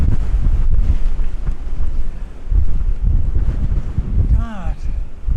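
Strong gusty wind buffets the microphone outdoors near a castle by the sea, a loud rumbling roar rising and falling throughout, with a brief voice near the end.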